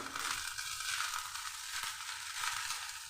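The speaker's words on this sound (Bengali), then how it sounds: "এর মধ্যে একে একে দিয়ে দিচ্ছি আমি কিশমিশ আর দিয়ে দিচ্ছি কাজু" Raisins and cashews frying in a pan over a low flame while pulao is being made, giving a steady, soft, continuous sizzle at close range with no talking.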